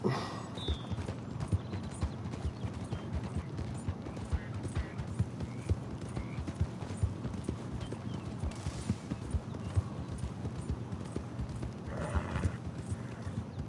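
Horse hooves clip-clop steadily at a riding pace in Red Dead Redemption 2, a continuous quiet rhythmic patter over low ambient noise, with a faint snort near the end.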